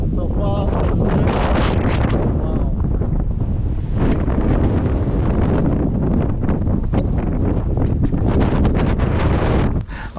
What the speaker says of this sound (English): it's been very, very windy over here, like over 30 miles per hour wind